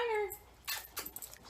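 A boxer dog whimpers: thin, high whines that fade out, followed by a few short yips and soft cries at close range, with no speech.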